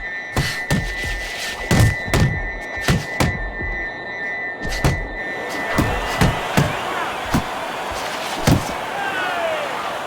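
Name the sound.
boxing punches landing in a video game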